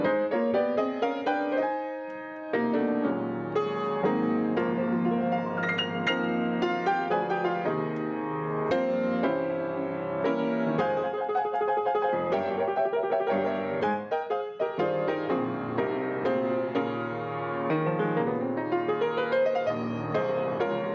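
Late-80s-style gospel keyboard chords played solo, rich sustained voicings with moving inner lines and flowing runs, steady and close for about twenty seconds with no talking.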